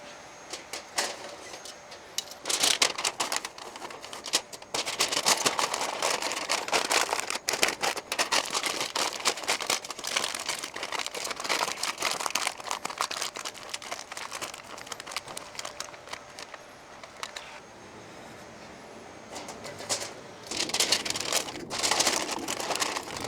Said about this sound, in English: So let's get these wrapped in some foil.